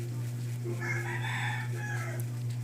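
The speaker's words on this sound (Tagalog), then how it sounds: "Ayun, manok." A Minecraft chicken clucks and crows in a run of short squawks over a steady low electronic hum.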